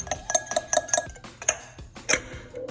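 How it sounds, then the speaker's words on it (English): A spoon clinks rapidly against a glass while stirring pandan paste, honey and water, a quick run of bright taps followed by a few slower, louder clinks, close up with no talk. "And you just mix it up all together in a glass."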